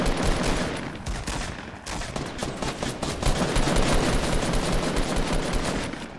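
Rapid bursts of gunfire from a Fortnite Battle Royale match, loud and continuous automatic shots filling the scene with dense, overlapping cracks.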